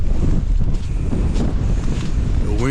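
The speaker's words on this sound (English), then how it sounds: "The wind is really whipping." Strong wind buffeting the microphone on a slushy Appalachian Trail section at Grayson Highlands State Park in April, a loud continuous low roar and rumble with constant gusting and no pauses.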